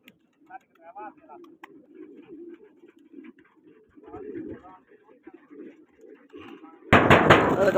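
Pigeons at a pigeon-flying contest give soft, repeated low coos throughout, with voices nearby, before a sudden loud burst of noise closes the moment.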